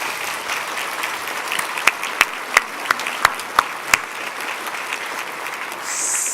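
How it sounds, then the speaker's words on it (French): Audience at a 2018 honor-roll ceremony for students in Épinal gives the administrative team a round of applause: a quiet murmur of clapping with a run of about eight distinct, evenly spaced loud claps in the middle. "nous pourrions peut-être réserver à cette équipe administrative les applaudissements qu'elle mérite"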